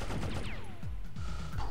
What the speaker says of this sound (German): Ihr könnt schießen, wie ihr wollt.